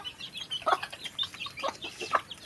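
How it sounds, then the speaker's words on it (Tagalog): Several chickens, a hen with chicks, cluck and chatter nearby in quick, irregular bursts, with a few higher peeping notes of chicks mixed in. "Yan, may mga sisiw. Yan po ang manok nila."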